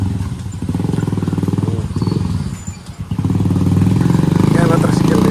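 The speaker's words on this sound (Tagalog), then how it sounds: "Ayan na tricycle dito." A motorized tricycle engine putters loudly and close by with a steady rattling throb near a mountain-town market, fading briefly and then swelling again as it passes; voices talk over it.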